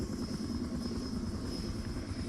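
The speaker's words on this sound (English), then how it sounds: "there are gunships inbound on you" Gunship helicopters approaching in the video game Far Cry Instincts: a steady, dense rotor and engine drone with a constant high whine, unbroken and moderately loud for the short stretch, no voices.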